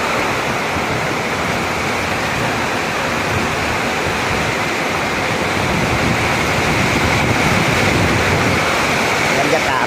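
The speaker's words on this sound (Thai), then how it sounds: "ฝนตกครับ" Heavy summer-storm rain pours down outside a noodle shop in Thailand, a loud, dense and continuous rushing wash that swells slightly toward the end.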